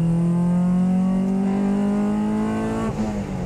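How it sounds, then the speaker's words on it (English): A Honda Civic Type R EP3 engine revs hard through the gears, with a loud, steady climbing whine as it crosses into VTEC, then a brief dip at a shift near the end. "And you can hear it change over and go into that magic VTEC."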